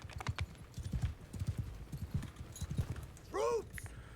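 Horse hooves clip-clop at a steady trot in a war strategy game as a mounted butcher rides, accompanied by low rumbling game sounds and a brief whinny-like tone near the end.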